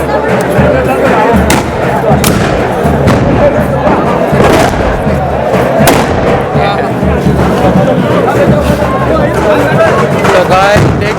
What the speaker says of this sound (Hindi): तो गाइस देखिए बम की होली, चारों तरफ धुआं।